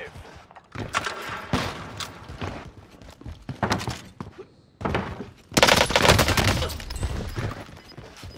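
Gunfire in Call of Duty Warzone on Rebirth Island: loud bursts of automatic rifle fire in uneven clusters, heaviest near the end, mixed with game effects and voices talking over the shooting.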